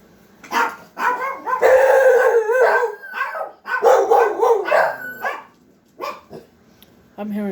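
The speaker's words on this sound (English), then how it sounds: "I'm hearing a bunch of dogs outside." A bunch of dogs outside bark and howl in overlapping, drawn-out cries and yips, fairly loud, in bursts with brief pauses, and a voice talks among them.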